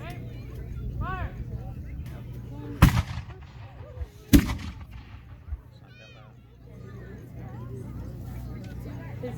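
Two loud booms from a pirate cannon ring out in the open air, a second or so apart, among ongoing talk and shouted commands from people nearby.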